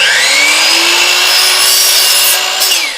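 Miter saw cutting trim and baseboard for a newly built home, a loud continuous high whine as the blade bites through the wood for a few seconds, then spinning down, near and alone.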